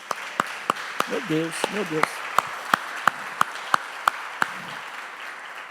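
A church congregation applauds in a steady run of sharp, evenly spaced claps under a preacher's voice, with scattered claps filling the gaps.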